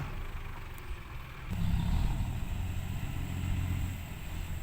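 A heavy dump truck engine rumbles in, growing louder and steadier as it arrives nearby, low and continuous with no voices.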